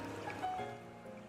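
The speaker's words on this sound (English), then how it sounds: "Relaxing water theme. Nintendo music plus water flowing sounds." Relaxing Nintendo music mixed with flowing water, soft sustained melodic tones over a gentle steady wash of water, faint and even, without speech.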